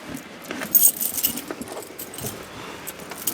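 A big bunch of keys jangles close by in several quick metallic clinking bursts, loudest near the start and fading into lighter rattles.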